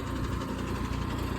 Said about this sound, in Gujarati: એકચ્યુઅલીમાં આજે અમારું ટ્રેક્ટર છે ને થોડોક ગધેડો કરે છે.